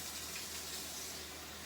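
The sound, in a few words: warm water poured into dog food bowl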